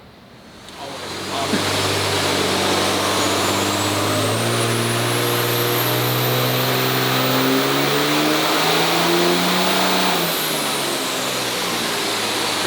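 A 2012 6.7L diesel dually truck engine revs hard on a dyno, rising steadily to a loud sustained roar with a turbo whistle climbing above it, then dropping off sharply near the end.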